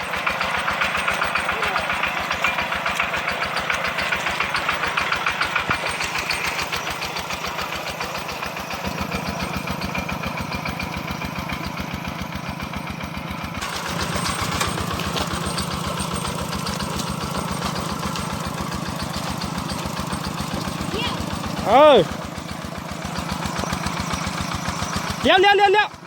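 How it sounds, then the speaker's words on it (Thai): A hand tractor engine chugs steadily while plowing a rice field, a loud continuous mid-pitched drone with a couple of revving surges near the end, as people talk over it. "ซูเปอร์ฮีโร่ขับรถไถ"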